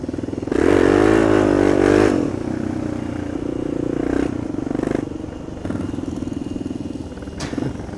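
An Aprilia motorcycle engine revs hard in a convoy, a loud rising roar in the opening seconds, then holds at a steady, slightly lower drone that continues to the end.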